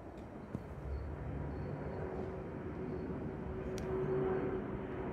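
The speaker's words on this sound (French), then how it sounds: "In flight now, ladies and gentlemen, the Airbus A400M." An Airbus A400M military airlifter flies past at an air show, its turboprop drone heard moderately far off as a steady hum that swells slightly near the end, no talk.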